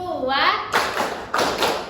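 A classroom of children claps together in a counting clap game, two or three distinct unison claps with children's voices between them.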